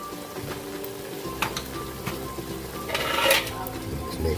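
A utensil stirs sautéed bean sprouts (ginisang toge) in a pan, the scraping strokes repeating steadily over a continuous close sizzle.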